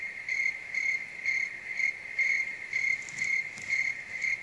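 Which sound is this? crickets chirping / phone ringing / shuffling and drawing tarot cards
crickets chirping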